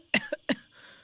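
A few short, dry coughs in quick succession, fairly faint, with quiet room background afterward.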